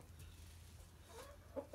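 Silkie chicken clucking near a peacock, two short soft clucks close by after a quiet stretch of low background noise.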